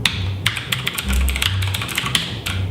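Rapid clicky keystrokes on a mechanical keyboard, close and crisp, in an uneven typing rhythm over a low hum.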